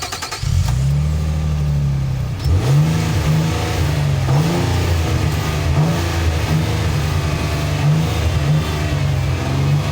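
A Nissan Armada engine revving with no load, loud and close, rising and falling through several smooth, growly throttle blips over a steady idle.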